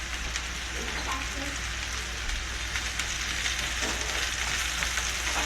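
Onions sizzle and crackle steadily in hot oil in a pan, a dense, even frying hiss that runs throughout at close range.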